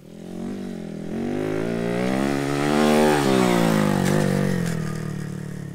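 Honda Monkey 125 motorcycle fitted with a Supertrapp exhaust, its engine revving steadily and loudly up to a peak and easing back down, close by with a buzzy harmonic tone and no voices.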